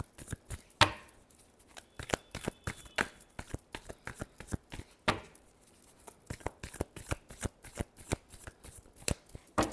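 Tarot cards being shuffled by hand in a quiet room, a rapid run of crisp riffling flicks and soft slaps repeating steadily throughout, close and fairly quiet with no talking.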